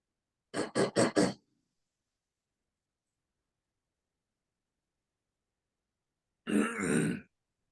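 Grunting sounds from people tasting tequila retronasally, specifically Cambio Tequila Reposado: a quick burst of four short throaty grunts, then silence, then one longer breathy grunt, close and fairly loud.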